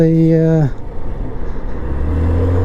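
A loud Lexmoto Apollo 125 scooter engine drone holds steady then drops off, giving way to rumbling traffic noise and wind rush from riding along the road.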